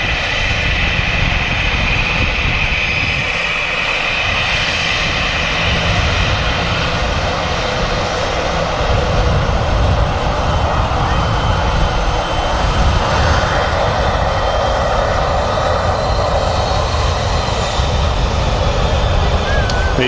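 Airliner engines at Manchester Airport roar steadily and loudly for the full stretch, a dense broadband rumble with a faint high whine, while someone talks intermittently over it.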